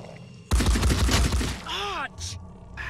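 Rapid burst of return gunfire in the video game Phoenix Point, a loud clattering volley followed by sweeping electronic whooshes and short game effects.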